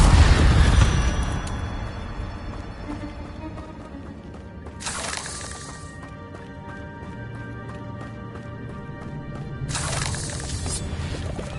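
A loud fiery whoosh of an Incendio fire spell opens, followed by two bright bursting flares later, each brief and forceful against a quieter humming game background.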